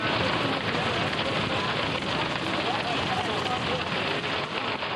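Heavy storm rain drumming on a heavy tent, a dense, constant roar of drops close by, loud and unbroken throughout.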